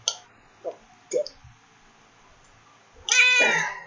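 A cat named Harley meows close by, one drawn-out, loud meow at the end after a few soft clicks and squishy handling noises, with no voices.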